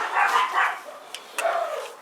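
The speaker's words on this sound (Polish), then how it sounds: "moje psy szczekają znowu" Dogs bark nearby in a few quick yips and barks, moderately loud with gaps between them, heard during motorcycle preparation for the riding season.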